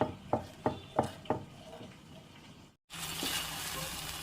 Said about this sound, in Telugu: ఇప్పుడైతే 2 నిమిషాల పాటు ఈ మసాలాలన్నీ బాగా కలిసేలాగా 2 నిమిషాలు వేగనివ్వాలి.